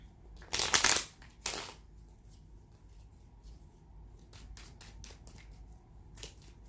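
A tarot card deck being shuffled, two loud riffling bursts near the start followed by fainter scattered card flicks and taps in a quiet room.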